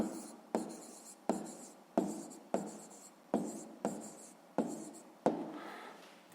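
Pen strokes on paper during a sixth-grade maths exercise, a series of about eight sharp scratching bursts each trailing off, evenly spaced and close, with no talking.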